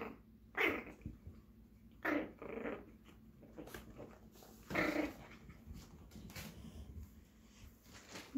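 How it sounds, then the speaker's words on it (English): A pet dog gives low growls and breathy huffs in a few short bursts spread over several seconds. The sounds are close and fairly quiet, with no talk. "that was my dog"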